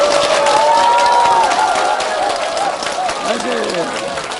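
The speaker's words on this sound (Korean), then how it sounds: "뜨거운 박수를 보내십시오" Lecture audience applauding and cheering in a hall, loud and continuous, with voices shouting over the clapping throughout.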